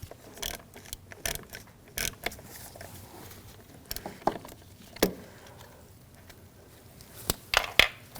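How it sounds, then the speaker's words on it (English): A ratchet with a T20 socket clicks in short irregular bursts while screws holding a wiring harness are removed on a 2006-2009 Audi S4 4.2L V8, with sharp close clacks of metal between. "Use a T20 socket. Remove those screws."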